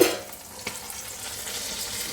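Pumpkin pieces frying in a kadai as they are stirred, a soft steady sizzle with a brief clink of the spatula, close and fairly quiet.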